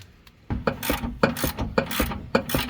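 Ratchet wrench on a control arm bolt of a 2015-2023 Mustang GT, rapid repeated clicking strokes in an even rhythm, close and fairly loud with no talking.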